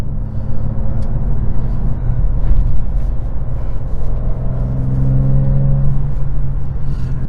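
A 2023 BMW M2 with a 6-speed manual and its engine in Sport Plus mode rumbles and revs from inside the cabin while driving through bends on a bumpy road, with continuous low engine drone and tire noise.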